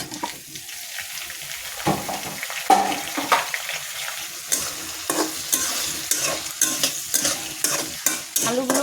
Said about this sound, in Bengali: আলুগুলো কষিয়ে নিচ্ছি